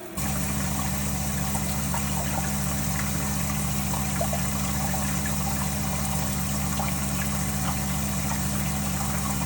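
Water runs steadily through a shower fitted with a thermostatic mixing valve: a constant, even rushing hiss with a low hum underneath, unbroken for the whole stretch and with no voices.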